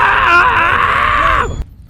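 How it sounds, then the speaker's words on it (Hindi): A scream effect in a Hindi horror story set in a jungle: one loud, sustained, strained cry lasting about a second and a half that cuts off abruptly into silence. "रोहित की चीख जंगल में ऐसे गूंजी जैसे किसी ने हवा को चीर दिया हो।"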